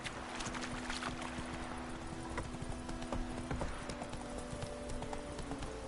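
Roach, Geralt's horse in The Witcher 3, gallops with a steady, fast clip-clop of hooves up close, alone and unbroken.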